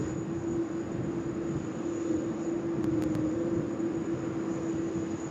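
A QantasLink Boeing 717 comes in to land at Sydney Airport, heard as a steady, distant jet engine drone with a low rumble and a sustained tonal hum, rising slightly as it nears.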